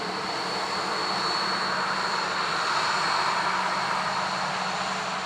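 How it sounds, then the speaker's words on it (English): A Ryanair jet arriving from Madrid at Dublin Airport gives a steady, loud broadband engine roar that holds throughout and swells slightly midway, with no voices. "That's Ryanair from Madrid."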